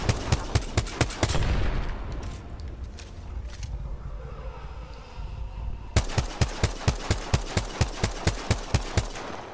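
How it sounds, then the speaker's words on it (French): Rapid, evenly spaced gunfire in a video game, a steady rhythmic string of loud shots that pauses briefly mid-stretch before resuming at the same fast pace. "Je sais pas, je tire au pif là."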